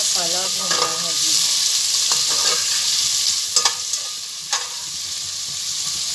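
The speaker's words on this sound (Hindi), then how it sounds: "प्याज हमने डाल दिए हैं। प्याज को हमने लाइट ब्राउन करना है और मसाला भूनना है जी।" Onions frying in a pan for bhindi chicken give a steady close sizzle, with scraping stirs and a few sharper clatters of the spoon against the pan.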